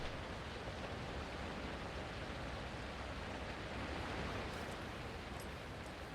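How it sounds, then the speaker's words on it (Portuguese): The Mortar Falls waterfall in the video game Alan Wake 2 roars as a constant, dense rushing wash, steady and unbroken throughout, with no voices. "Ah, cachoeira, achei que era um carro fazendo barulho."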